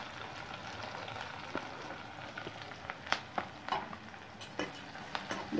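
Sliced onions and four green chillies sizzle in hot oil after mustard seeds have popped, for a Tamil-style taro root masala kuzhambu; a steady soft frying hiss with occasional light crackles and pops.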